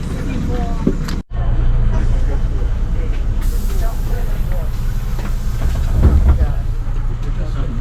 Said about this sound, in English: We're on the intercity train to get down to Monte Rosa.